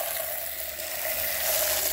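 A water hose sprays steadily onto a chicken coop tray caked with droppings and wood chips, making a continuous hiss that swells slightly near the end, with no voices.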